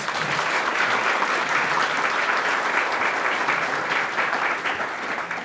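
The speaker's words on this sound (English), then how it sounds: "Big round of applause for these folks." An audience at the Women In Business Expo 2024 claps for event sponsors, sustained even applause from a crowd lasting about five seconds, tapering slightly at the end.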